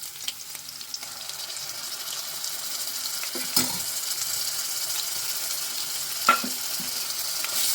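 Onions frying in a pan for mutton kheema curry as ginger-garlic paste goes in, a constant close sizzle punctuated by two sharp clinks of a spoon against the pan, the hiss swelling toward the end.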